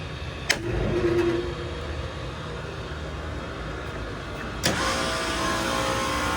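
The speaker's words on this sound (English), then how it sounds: "we're gonna go ahead and see if we can get this motor to operate" The electric motor of a Trane IntelliPak rooftop unit kicks on with a sharp click, settles into a steady electrical hum and whir, and a second click arrives late with the drone continuing. No voices are present.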